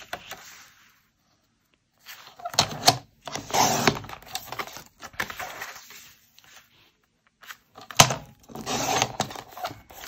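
Paper trim for a recipe folio being cut, a series of crisp snips and crunchy slicing bursts close by, separated by short pauses and with a sharp click near the end.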